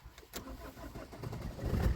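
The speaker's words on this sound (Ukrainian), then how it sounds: "і автомобіль одразу заводиться." A 1.3 Multijet diesel car engine (A13DTE) with newly replaced glow plugs cranks briefly and fires up at once, settling into a rough, steadily louder idle close by.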